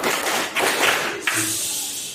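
Audience clapping together in a group clapping exercise, a burst of many hands striking in unison, loud and close, then fading into room noise.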